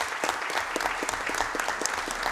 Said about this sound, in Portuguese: Eu peço uma salva de palmas ao nosso Eliomar.